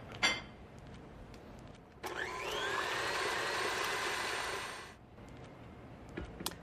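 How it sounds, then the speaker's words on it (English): An electric mixer whips egg whites with a little cream of tartar in a home kitchen, starting abruptly and running as a steady whir for about three seconds before winding down, with a few clicks and clatters around it. "I'll put these into the mixer. I'll add a little bit of cream of tartar."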